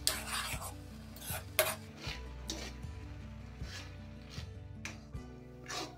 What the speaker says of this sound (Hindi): इसको हाई फ्लेम में 3-4 मिनट तक इस तरह भूनेंगे।